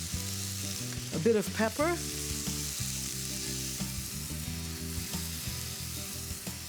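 Tomatoes sizzling in a hot pan while cooking a Greek bulgur pilaf, a steady close frying hiss with light stirring clatter, and a voice speaking briefly near the start.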